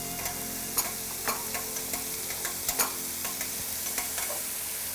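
A spoon stirs chicken curry in a pan, giving soft repeated scrapes and clicks over a steady low sizzle, close and moderately quiet with no voices.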